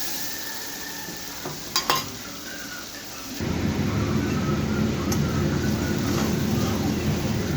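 Masala frying in a pan for chicken kofta: a couple of metal clinks and scrapes, then a loud steady sizzle from the middle onward as the spice paste cooks, close and without talk.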